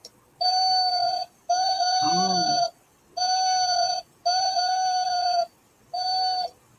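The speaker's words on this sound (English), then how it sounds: "But this owl makes noise." Owl-shaped alarm clock, about 5¼ inches tall, sounding a loud electronic beeping alarm in five evenly spaced bursts with short gaps, and a brief exclamation from a person partway through.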